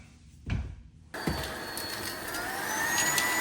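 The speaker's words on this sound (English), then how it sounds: "I'm gonna vacuum up a little bit" A vacuum cleaner starts up in a media room after a couple of knocks and runs with a steady loud whine that rises slightly as it works close by.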